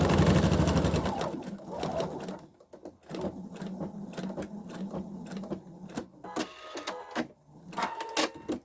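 A sewing machine stitches a small fabric hair scrunchie in quick rattling bursts, stopping and starting with short pauses between runs, close and clear.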